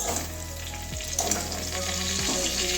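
Boiled potato and pointed gourd frying in a pan for aloo potol bhorta, a dense close sizzle with stirring scrapes and occasional sputters, no talking.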